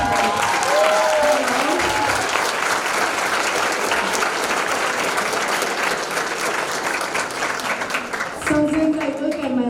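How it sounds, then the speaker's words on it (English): Loud, sustained audience applause fills a gala hall for a scholarship fund event, steady clapping from a large crowd with some cheering, easing briefly near the end as a voice begins to speak. "Listen, can we get a round of applause for Lucy?"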